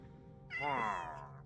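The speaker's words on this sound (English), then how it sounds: "These cats have been basically stuck in these boats basically ever since pretty much day one" A cat meows once in Minecraft, a single drawn-out harmonic cry rising then falling over about a second, clear and fairly near above faint game background.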